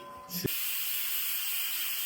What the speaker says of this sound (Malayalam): കുക്കർ നമ്മുടെ ഫസ്റ്റത്തെ വിസിൽ അടിച്ചിട്ടുണ്ട്